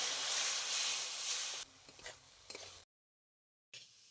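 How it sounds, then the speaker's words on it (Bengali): Okra frying in mustard paste, dried chilli, turmeric and spices gives a loud, dense sizzle for the first second and a half, then a quieter crackle with scattered ticks, a short silence, and the sizzle returning briefly. "মশলার মধ্যে বেশ কিছুক্ষণ ভেন্ডি কষিয়ে নিয়েছি"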